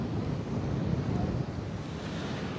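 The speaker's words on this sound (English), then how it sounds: "that wind has picked up a little bit now" A light breeze picking up over Stithians Lake, a steady low rumble of wind buffeting the microphone with a soft broadband rush and slight gusty swells, no voices.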